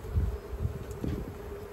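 Honey bees buzzing around a hive being removed from an old shed, a close, low droning hum that swells and fades with a few louder passes.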